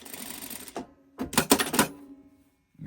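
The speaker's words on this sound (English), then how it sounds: "I'm going to line that up and stitch that on top there at 1/4 inch." A sewing machine stitches a fabric piece onto a scrappy quilt block at a quarter-inch seam, running in a short burst of rapid, close mechanical whirring that starts and stops abruptly.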